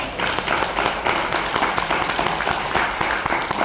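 An audience at a lecture on Korean unification claps together: a busy, sustained round of applause with distinct individual claps standing out, moderately loud and continuous throughout.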